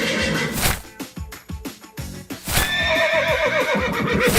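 Several horses neigh and whinny loudly and close by, with clip-clop hoofbeats and other busy sound underneath.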